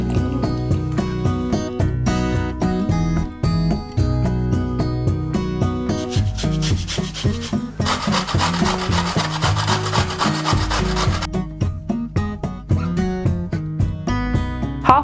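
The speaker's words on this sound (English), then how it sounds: "Half of a carrot grated" A carrot rubbed against a grater, rhythmic rasping strokes repeating steadily and close, with no talking.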